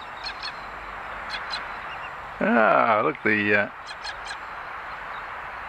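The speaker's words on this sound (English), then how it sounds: "birds are interested. The galahs." Galahs calling loudly nearby with harsh, screeching squawks in a short burst at an outdoor model-plane flying spot, with brief talk around them.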